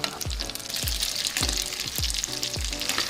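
A continuous close sizzle of oil with garlic, lemon zest and parsley frying in a pan, punctuated by regular knocks and scrapes of a spoon stirring roughly every half second.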